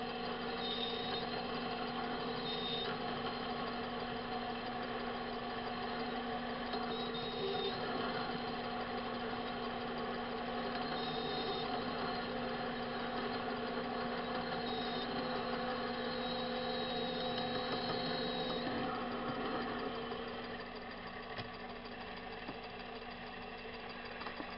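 A machine tool taking shallow cuts in metal with a boring bar while making a plunge router base: a steady, loud mechanical hum and drone with a faint rhythmic whir and occasional high squeal, running continuously and easing slightly near the end, no talking.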